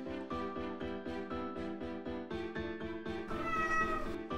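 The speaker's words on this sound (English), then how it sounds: "I'm hearing cats." Cats meow repeatedly in a video game, a rapid run of loud, close, tonal meows that stack and swell toward the end over a steady backing.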